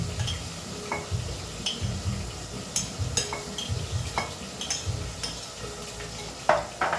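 Kinilaw na bangus, raw milkfish with onions, is stirred with soft wet scraping and a few clinks of utensil against dish, close and unhurried, with no voices.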